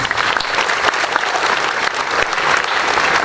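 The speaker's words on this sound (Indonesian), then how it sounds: "Tepuk tangan dong." Loud, dense applause from a crowd of students at a Monday school flag ceremony opening new-student orientation, steady throughout with no talk.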